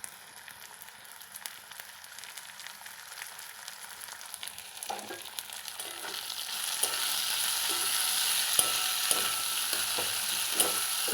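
Chopped onion and tomato frying in a pan with oil, a soft sizzle that grows louder and denser partway through, with occasional stirring clicks and no speech.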